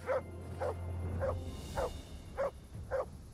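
A dog in the video game Kingdom Come: Deliverance barks six times in a steady, evenly spaced series, moderately close and alone with no talk over it.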